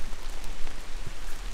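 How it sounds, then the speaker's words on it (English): Steady rain patters onto leaves and ground in the woods at night, a continuous, dense hiss of drops with no voices. "You dragged me out into the rain and into the woods to talk to you and get my attention."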